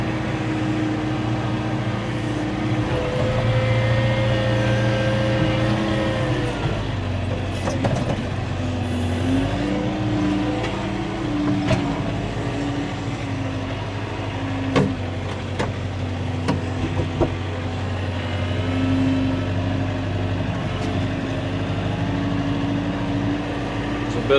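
A John Deere 4066R compact tractor gears down to dig into settled dirt piles: a steady, loud engine drone with a strong tonal hum that holds close and unbroken throughout.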